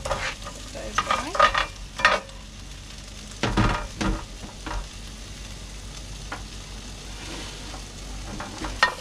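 Onions frying in a pan, a soft continuous sizzle broken by several louder scrapes and clatters of stirring, close by and fairly quiet, with no one talking.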